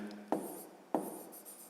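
Pen or pencil strokes on paper while a grade-five division problem is worked out by hand, two short scratchy bursts of writing close up and fairly quiet, with no talk over them.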